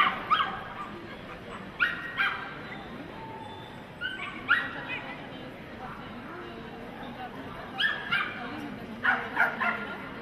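A Parson Russell terrier barks in quick bursts of yips and woofs during a small-dog jumping run at the 2008 FCI agility world championship, with a steady crowd murmur beneath and commentators talking.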